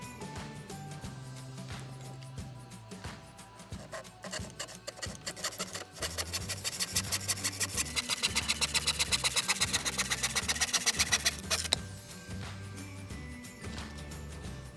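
Wood boards (2x10s and 2x4s) being cut for a DIY compost tumbler frame: a steady rasping saw with a running motor, building into fast rhythmic strokes in the middle before stopping.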